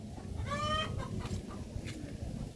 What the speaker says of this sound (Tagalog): Puro manok na malalaki.